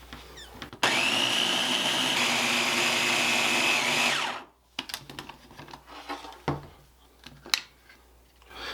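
A food processor whirs loudly and steadily for about three seconds, blending butter into a cheesecake crust mixture, then cuts off abruptly. Clatter and handling noises follow.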